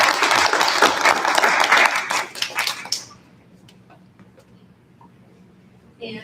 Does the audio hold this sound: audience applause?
yes